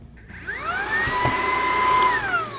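A MOOSOO U19 5-in-1 cordless upright vacuum cleaner, used in handheld mode, powers up with a rising whine that settles into a steady, loud high-pitched motor hum close by.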